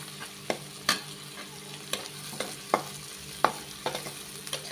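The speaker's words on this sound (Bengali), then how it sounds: "নাড়তে নাড়তে নাড়তে নাড়তে" Chopped onions fry in a pan with a steady low sizzle while a utensil scrapes and knocks against the pan in irregular strokes, close and moderately loud.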